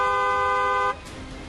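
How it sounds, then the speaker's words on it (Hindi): A car horn gives one sustained, loud honk lasting just under a second, then cuts off to quiet background noise. "हॉर्न बजाएं"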